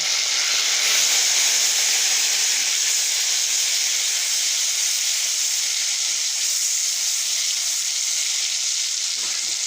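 A spoonful or two of vinegar hits a hot pan of golden garlic for Egyptian moussaka. It makes a loud, steady sizzling hiss that stays even for nearly ten seconds.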